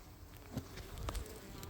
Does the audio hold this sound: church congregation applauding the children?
no